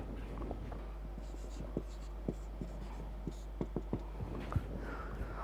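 Chalk or pen writing during a university maths lecture on beta and gamma functions: a steady run of soft scratches and taps, several sharper strokes, close and fairly quiet over a low constant hum, with no talking.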